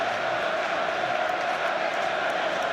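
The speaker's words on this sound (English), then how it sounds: "those vociferous Yorkshire folk in the crowd demand more as well" A football crowd at a Leeds United FA Cup replay against Arsenal roars continuously, a dense, steady wall of distant cheering and chanting filling the stadium.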